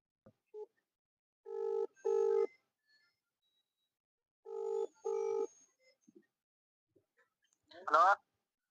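Two pairs of electronic telephone rings sound in quiet surroundings, each pair a double burst, followed by a short, brief voice-like sound.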